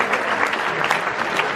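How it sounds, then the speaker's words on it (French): An audience at a rugby photography festival awards ceremony in Albi claps in sustained, dense applause, a steady wash of many hands heard close and loud. "Je crois que ça mérite quand même des applaudissements soutenus"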